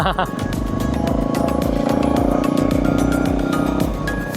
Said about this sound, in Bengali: চলো একটু বাইক চালিয়ে আসি।